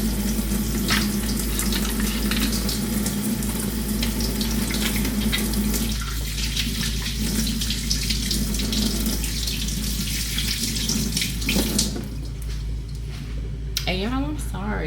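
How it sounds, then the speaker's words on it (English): Hands being washed under a running kitchen tap, a steady close rush of water that runs for most of the stretch, then thins out and changes near the end. "I'm gonna wash my hands"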